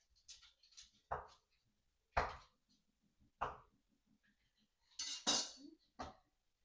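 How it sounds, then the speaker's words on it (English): Knife cutting seafood boil ingredients into inch-sized chunks on a board, giving six or seven separate dull chopping knocks spaced unevenly, close and clear, with quiet gaps between strokes. "I'm going to slice them up in like inch chunks"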